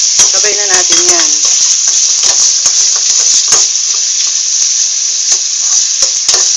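Ham and hot dog frying in a pan for sopas, a loud, dense, continuous sizzle with crackling pops and occasional stirring scrapes, a voice speaking briefly near the start.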